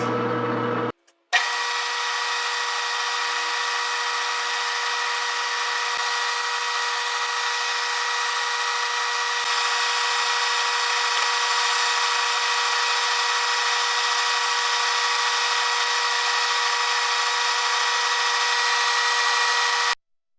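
Jet-16 milling machine running steadily while machining its spindle pulley, a loud, even mechanical whine and hum with a high cutting tone that stays constant after a brief start, no talking.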